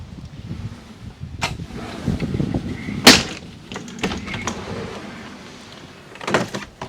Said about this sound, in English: So let me start by opening the doors.